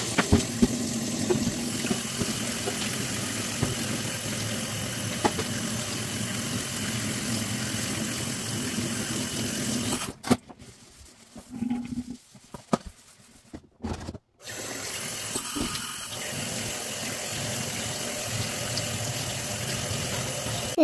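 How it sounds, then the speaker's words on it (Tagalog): Hot water runs from a tap into a kitchen sink for cleaning, a steady close rushing splash that drops into quieter, broken trickles midway and then resumes at full flow. "Linisan muna natin itong sink natin guys with hot water."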